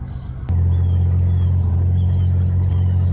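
A Nissan SE-R being driven, its engine giving a steady loud low drone after a sharp knock at the start, heard from inside the car with no talking.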